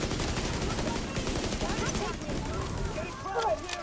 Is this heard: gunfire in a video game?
yes